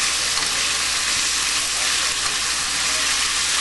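Chunks of chili colorado meat browning in a hot pan, a steady loud hissing sizzle with fine crackle throughout, continuous and close.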